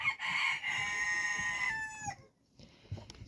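A bird in a backyard quail enclosure calls close by in a long, loud, crowing-like cry lasting about two seconds, then falls quiet before faint rustling and a few softer sounds.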